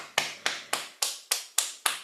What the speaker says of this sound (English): We'll tap our way down this other side.